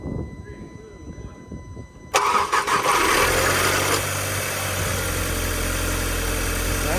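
A 2005–2008 Audi A4 B7 with a stage 2 turbo cranks and fires up, the quiet start giving way to a sudden loud catch, then settling into a steady, close rumbling idle.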